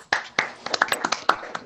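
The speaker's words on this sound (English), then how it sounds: "let's all unmute and give a round of applause to Representative Hamoud and Representative" Scattered clapping from a few people in an online career event, sharp separate claps at an uneven rhythm, close and fairly quiet.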